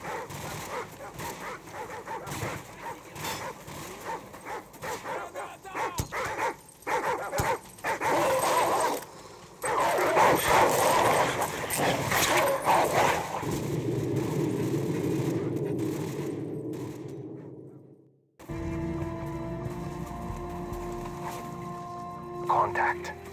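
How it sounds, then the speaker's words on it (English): Dogs barking in tall grass in the Call of Duty 4: Modern Warfare mission "All Ghillied Up", with yips and whimpers mixed into a dense, loud game soundscape of speech and vehicle noise that cuts out abruptly near the end. "Dogs in the tall grass."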